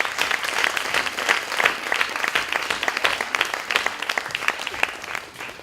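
Dense, sustained applause from an evening concert audience at the BBox fills the room, loud and steady throughout, with thick overlapping claps and no break.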